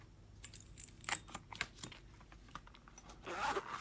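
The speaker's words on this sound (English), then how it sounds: "This zips up" The zipper of a small fingerboard accessory case is pulled in short, scratchy bursts, close up and fairly quiet, with a few clicks between the pulls.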